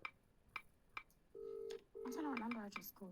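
A mobile phone's small keypad gives two steady dialing beeps after a few sharp key clicks. The beeps are close and clear, and a person talks over the end of the second one.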